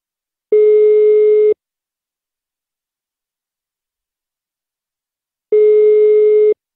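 Telephone line tone heard during a prank call: two identical one-second beeps about four seconds apart, clean and steady with silence between.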